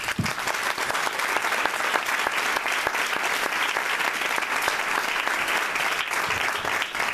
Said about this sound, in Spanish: me gustaría pedir un aplauso para ellos cuatro.